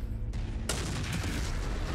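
A mech's cannon fires in MechWarrior 5: Mercenaries, a sudden heavy blast that breaks through a dense, loud wall of battle rumble and keeps roaring after the hit.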